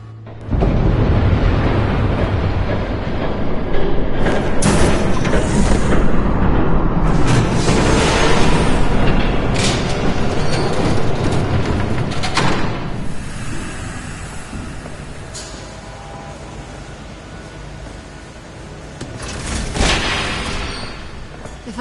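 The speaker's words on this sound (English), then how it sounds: "There's a train coming." A train approaches in the Batman Telltale game as a loud, heavy roaring rumble that swells in early, holds with sharp crashing bursts, eases toward the end, then rises briefly again.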